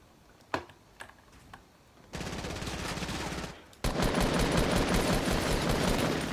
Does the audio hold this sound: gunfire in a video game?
yes